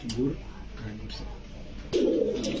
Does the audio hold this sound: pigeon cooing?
yes